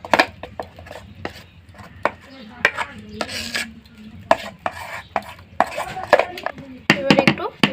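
Eggless vanilla sponge cake batter with cherries being scraped from a bowl into a baking tin: repeated close scraping and tapping of a utensil against metal, irregular knocks with brief gaps, no talk.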